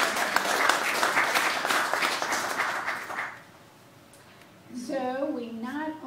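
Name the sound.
audience round of applause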